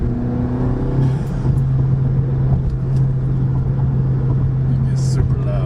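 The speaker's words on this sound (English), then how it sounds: "You can hear the turbo now that I got the new intake on here." A Volkswagen MK7 GTI with the EA888 turbo engine and an Injen intake runs close by with a steady, loud droning hum and a faint turbo whir, and a voice is heard briefly underneath.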